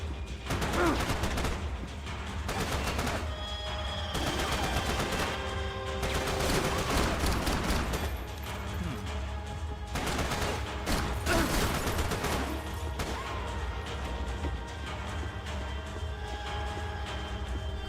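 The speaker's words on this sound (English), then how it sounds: "Grenade launchers or something?" Sustained gunfire in the Max Payne 3 shooter: dense, overlapping rapid bursts and heavy reports roll on continuously with barely a pause, loud and close throughout, with no speech.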